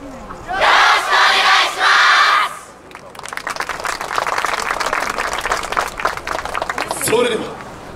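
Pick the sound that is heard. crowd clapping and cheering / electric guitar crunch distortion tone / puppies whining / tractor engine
crowd clapping and cheering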